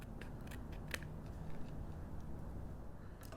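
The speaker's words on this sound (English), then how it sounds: "So I'm just looking at the back side and cutting off the extra." Scissors trim excess glitter washi tape and paper for a card, a series of quick, close, crisp snips over a low background hum.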